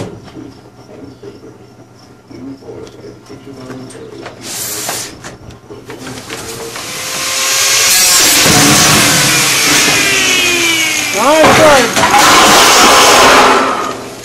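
A grinding wheel cuts through a wheel. After a quieter start with some low noise, a loud, harsh whining grind takes over for the final six seconds, its pitch sweeping up and down as the cut goes on.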